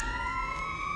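Police siren from a TV cop show preview, a steady loud wailing tone that stays close and holds for a moment with no voices over it.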